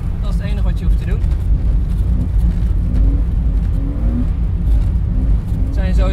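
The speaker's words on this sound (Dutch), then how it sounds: "En verder kun je lekker gassen, gassen, gassen, gassen." A drift car accelerates hard on a track, its engine droning loud and steady with rising revs throughout, while someone talks over it.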